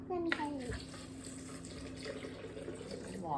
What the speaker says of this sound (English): I have a cup and a half of water. You want to pour it in there?